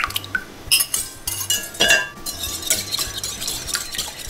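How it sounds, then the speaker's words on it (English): Eggs whisked in a bowl with a utensil, a rapid run of close clinking and scraping strokes against the bowl, some sharper taps standing out, with no talk over it. "what we're going to do is mix up our eggs"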